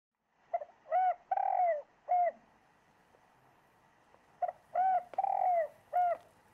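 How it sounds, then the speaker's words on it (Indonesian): A bird sings in a quiet outdoor setting: two bursts of clear, melodic whistled and cooing notes, each a short run of four or five calls, separated by a few seconds of near silence. The notes sound close and moderately loud, with no talking. "Merdu sungguh suara burung itu."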